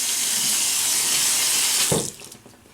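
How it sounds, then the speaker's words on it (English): A tub washed under a running faucet, a loud steady rush of tap water close by for about two seconds, then a brief splash as the flow cuts off and fades to quiet. "So, let's wash this tub off."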